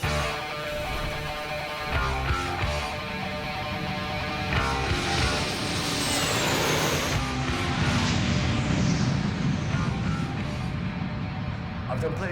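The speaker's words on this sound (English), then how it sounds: "I've done plenty of takeoffs in Boeing 757s, but this particular one was rather special." A Boeing 757 airliner on its takeoff roll, a broad engine roar with a rising whine that swells and builds steadily over the stretch, heard from inside alongside music.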